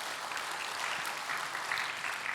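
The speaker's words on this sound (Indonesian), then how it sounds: "Berikan tepuk tangan buat Tuhan Yesus." A church congregation applauds during a sermon, a steady wash of many hands clapping at once that holds evenly for a couple of seconds, fairly soft and heard alone with no talk over it.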